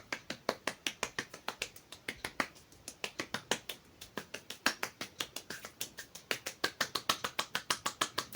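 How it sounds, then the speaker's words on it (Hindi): Slow hand clapping keeps a steady, even rhythm for the whole stretch, each sharp clap distinct and fairly close, with no talking over it, during a guided trataka concentration exercise. "अब धीरे धीरे से ताली आपको बजाना है।"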